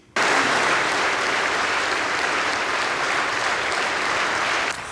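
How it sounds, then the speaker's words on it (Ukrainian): Audience applause interrupts a president's emotional speech at a Day of Remembrance and Reconciliation event, a dense, loud, steady wash of clapping that starts abruptly and holds for about five seconds before cutting off. "Ось так оплесками виступ президента перервали не раз"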